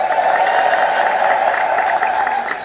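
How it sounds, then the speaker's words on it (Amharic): A church congregation at an Orthodox teaching gathering claps together, a steady, full round of applause with a constant crowd murmur beneath, loud and close, tapering slightly at the end. "እስኪ አጨብጭቡ አንድ ጊዜ።"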